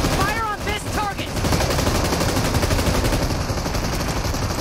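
Rapid, sustained automatic gunfire crackles through a shooter video game, steady bursts filling the clip, with a brief voice and radio-style chatter at the start.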